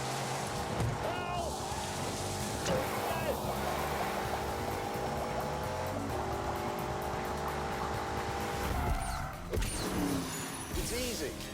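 A BMW 8 Series with four-wheel steering drives in a Grand Tour video game, its engine holding a steady drone with shifting pitch and tire noise while a voice talks over it.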